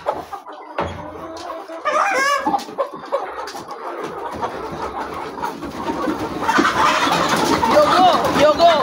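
Chickens and a rooster clucking and squawking loudly while being caught by hand on a poultry farm, bursts of agitated calls and flapping, with people talking over them.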